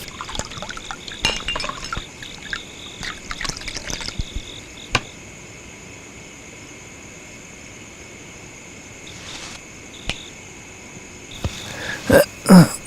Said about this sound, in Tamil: ஊத்துறா 3 பேருக்கும்.